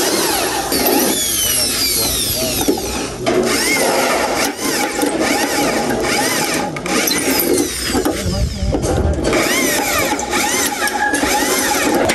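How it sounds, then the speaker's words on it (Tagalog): A power drill boring holes during rooftop construction, repeated whining bursts of the motor with pauses between them, while people talk nearby over the work. "Si Udang po ang nagbubutas"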